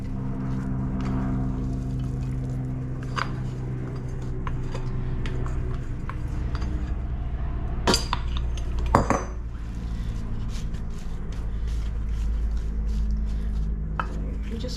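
Scraping and clinking of a scraper against a baking dish as apple crumble topping is spread over the apple mixture, with scattered sharp taps and knocks against a low kitchen hum.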